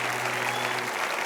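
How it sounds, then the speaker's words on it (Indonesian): Studio audience applause at a televised Indonesian talk show, a dense steady wash of clapping filling the whole moment at a constant level, with no voices over it. "Mari kita berikan tepuk tangan yang meriah untuk Nelson Wonda dan Gaby Edowai."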